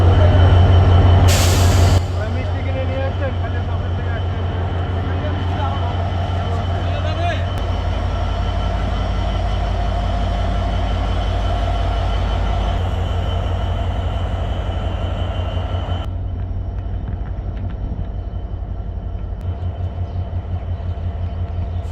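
A train at Ullapara on a Jessore to Sirajganj rail journey gives a loud, continuous low rumble with a short sharp hiss of air near the start, while voices talk over the steady noise.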